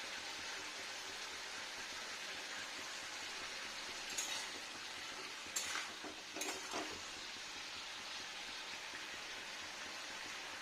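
Paneer and spices frying in a pan while being stirred, a steady soft sizzle with a few brief scraping stirs of a utensil against the pan midway.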